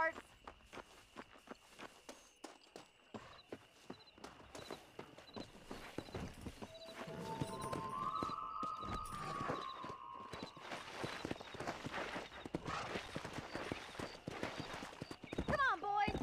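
Horse hooves clip-clopping steadily while riding in Red Dead Redemption, a quick rhythmic gait with a whinny midway and other riders joining, busy and moderately loud with talk throughout.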